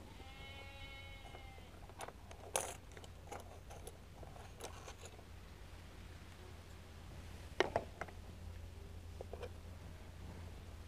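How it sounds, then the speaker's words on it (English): Sheep bleating in a rural field, one clear drawn-out bleat at the start followed by faint scattered rustles and clicks over a quiet outdoor background. "Maybe I do need to put in a few of these sheep, seeing as they're making so much noise."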